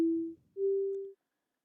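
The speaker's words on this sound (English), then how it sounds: "I'm playing this live from my MIDI keyboard." Two sustained synthesizer tones played live from a MIDI keyboard sound one after another, the second slightly higher and longer, clean and steady before cutting to silence.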